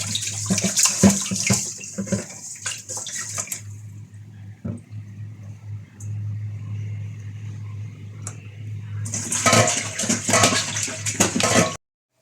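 King fish pieces being rinsed by hand in water with rock salt, with busy splashing and sloshing at the start and end and a quieter stretch of light water movement in between, with no talk.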